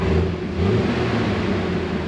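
A Jeep engine runs steadily after its trouble codes were cleared, a continuous low rumble and hum at close range with no talk over it.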